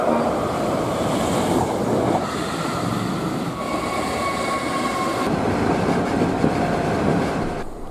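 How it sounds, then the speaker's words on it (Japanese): A Hankyu Kobe Line train rushes through Kasugano-michi station on a stretch running beside the JR line, a loud, continuous roar and rumble of wheels on rails for several seconds. "JR との並走区間にある春日野道駅を通過します。"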